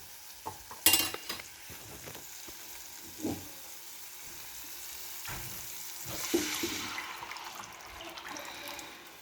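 Spinach dal poured into hot masala in a pan and stirred, with scattered scraping clatters, a brief splash and a rising sizzle and bubbling toward the end, all fairly quiet.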